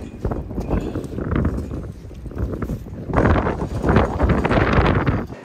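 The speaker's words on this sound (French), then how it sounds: "Il y a un vent dehors, il y a un vent de fou." Strong wind buffeting a microphone outdoors on a tennis court, loud rumbling gusts that swell and surge, strongest in the latter half.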